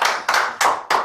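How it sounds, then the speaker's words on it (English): Short bursts of hand clapping from a small group, four quick waves of applause in about a second, close and fairly loud. "Give a round of applause."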